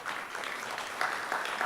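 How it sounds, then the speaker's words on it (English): Audience at a Hawaii small business event applauding, a dense steady wash of clapping that fills the whole moment without letting up. "please give yourselves a round of applause"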